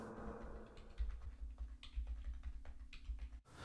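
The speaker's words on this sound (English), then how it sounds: "Here I'm typing in some chords like I did before." Chords are typed on a computer keyboard for a music plugin, giving quiet, irregular key clicks close by over a low steady hum, with no talking.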